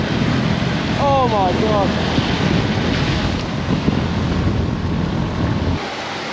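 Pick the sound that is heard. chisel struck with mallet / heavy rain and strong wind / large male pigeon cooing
heavy rain and strong wind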